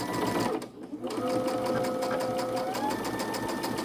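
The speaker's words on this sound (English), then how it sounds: "I'm going to sew those together." A sewing machine stitching quilt pieces together for star blocks, a fast steady mechanical whirr close by, briefly pausing near the start before running on continuously, with no speech.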